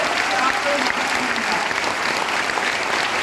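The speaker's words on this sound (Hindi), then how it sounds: "तो एक बार तालियां बजाइए अपने लिए।" Seminar audience at a Vestige business training event applauding themselves, a steady dense wash of clapping throughout with faint voices mixed in.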